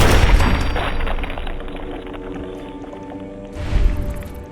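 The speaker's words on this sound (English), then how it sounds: "Ugh, he exploded." An enemy bursting apart in Fallout 4, a loud booming blast with wet, splattering debris that trails off, then a second heavy thump near the end.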